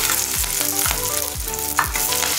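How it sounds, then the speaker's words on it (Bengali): Green beans frying in oil with grated ginger in a wok, a steady loud sizzle broken by regular scraping stirs about every half second, with no voices. "বিনসটা একটু ভাজা ভাজা করে নেবো।"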